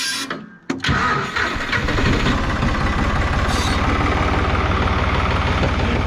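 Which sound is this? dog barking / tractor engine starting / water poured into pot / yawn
tractor engine starting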